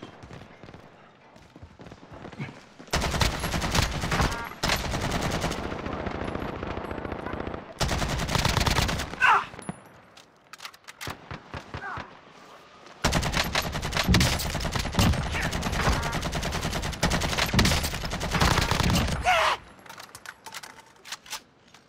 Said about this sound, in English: Taking shots. Fire.